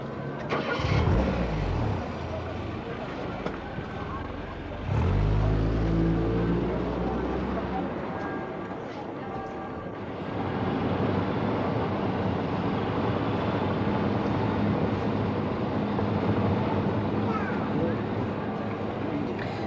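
A Mercedes-Benz 190E driving through crowded tourist streets, its engine a steady, fairly loud mechanical drone with a brief surge of revving partway through, while someone talks over it.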